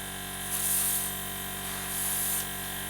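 A steady hiss of spray paint on model kit parts set on a cake tray, with two stronger bursts, close and continuous, over a constant mechanical hum.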